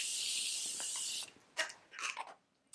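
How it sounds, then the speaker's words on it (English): A continuous hissing of makeup setting spray onto a face lasts about a second, close and fairly loud, followed by a few soft rustling taps. "Let me spray my face"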